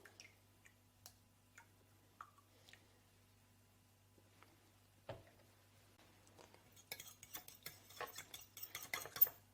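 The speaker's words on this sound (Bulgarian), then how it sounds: "Разбърквам, за да се разтвори маята поне малко в млякото." A spoon stirs fresh yeast into a small amount of milk in a bowl, starting with faint scattered clicks and taps, then building into a steady, close scraping and clinking over the last few seconds.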